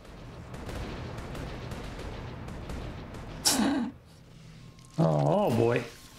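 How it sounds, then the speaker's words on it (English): Gunfire in Mass Effect 3 comes as a few muffled shots in a noisy, crackling battle mix, followed by two loud distorted bursts of creature or weapon noise, with a voice talking in between. "We're shooting at dead people."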